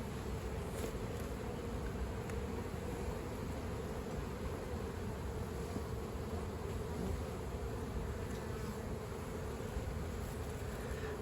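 Honeybees swarm around an open beehive as frames of brood are lifted, giving a dense, even buzzing hum that stays close and constant throughout, with no talking.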